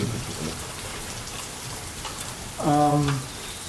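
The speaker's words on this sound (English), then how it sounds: "It's pouring ass rain out here." Heavy pouring rain hisses steadily outdoors during a stormy night, a dense constant wash, with a brief voice rising over it near the end.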